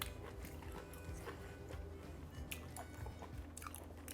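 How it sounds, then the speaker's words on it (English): Someone chewing steamed squid in garlic sauce, with soft, moist bites and munching close to the microphone, faint and continuous over a low background hum. "Let's give the squid a taste."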